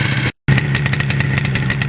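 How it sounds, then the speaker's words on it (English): Yamaha RD400 two-stroke motorcycle engine idling as it warms up, a steady buzzy burble close by with a brief dropout near the start, no talk over it. "Oh, I love the sound and smell of those 2 strokes."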